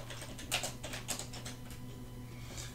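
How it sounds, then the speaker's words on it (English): Fingers tap on a computer keyboard while a search for Control Panel is entered in Windows, a short run of light clicks with a few sharper strokes over a steady low hum. "go to your search tab and type control panel"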